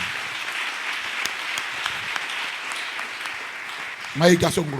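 A church congregation claps in steady, sustained applause, fairly close, and a voice comes in over it near the end.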